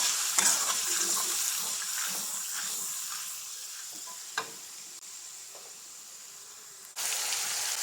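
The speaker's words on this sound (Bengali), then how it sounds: "এখন এইগুলো খুব সুন্দরভাবে নাড়াচাড়া করতে হবে।" Onion paste and cumin paste frying in a pan with steady sizzle and hiss, broken by scraping stirs and a few sharp clicks of a spatula. The frying is close and fairly loud, and a brief burst of stronger sizzle comes near the end.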